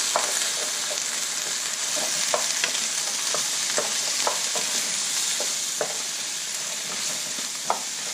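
Zucchini and eggs are stirred in a frying pan over a steady sizzle, with repeated light spatula scrapes and taps spaced every second or so.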